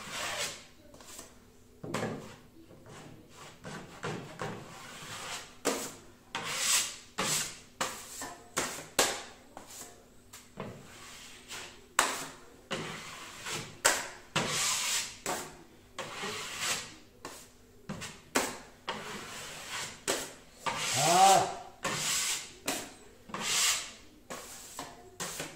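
A metal drywall spatula drawn at about 45 degrees along plasterboard joint tape, spreading joint compound in repeated short scraping strokes, close and fairly quiet, with no talk.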